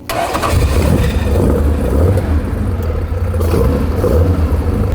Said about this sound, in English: what we've done is we've built a new race engine